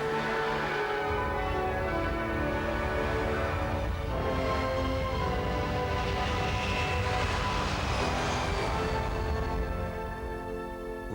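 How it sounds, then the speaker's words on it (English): A former Lockheed U-2 spy plane flies overhead with a loud, steady jet drone and a sustained tonal whine throughout, with no voices. "They include types like this former Lockheed U-2 spy plane."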